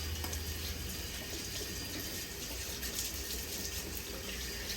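Running kitchen tap water rinsing hands messy from rib seasoning, a steady faint splashing stream alone without talk.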